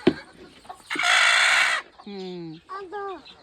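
A farm hen squawks and clucks while being held by hand, a loud harsh burst followed by several rising-and-falling calls, close up with a voice briefly in the background.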